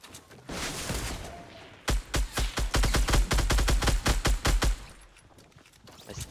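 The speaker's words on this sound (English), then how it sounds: "I heard some shots." A string of about twenty close Fortnite gunshots fires in a fast, even rhythm, loud and sharp, then stops, leaving quieter game ambience.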